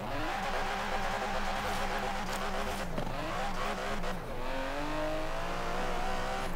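A race car in Forza Horizon 4 launches and accelerates hard, its engine note rising through gear changes with brief tire scrabble, loud and close throughout.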